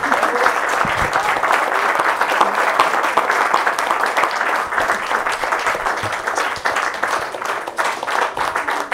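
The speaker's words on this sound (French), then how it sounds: "vous pouvez l'applaudir maintenant très fort" A conference audience in a hall gives loud, sustained applause, dense clapping that holds steady throughout without fading.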